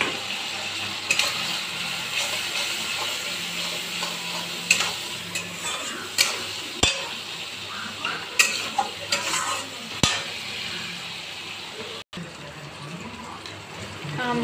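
Tomato and ground spices frying in a pan, with a steady sizzle and scattered clinks and scrapes as they are stirred, close and continuous.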